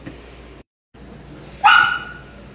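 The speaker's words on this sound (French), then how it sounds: "On entend mon chien pleurer." A Labrador dog whines in a kitchen, a short, fairly loud rising cry that follows quiet room noise and a brief silent gap.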